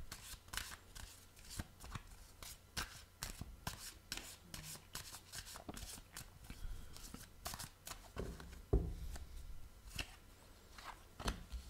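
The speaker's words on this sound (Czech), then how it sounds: "Já si tady budu chvilinku míchat kartičky" Tarot cards being shuffled by hand, a steady run of crisp riffling and slapping bursts, close and fairly quiet, with no talking over it.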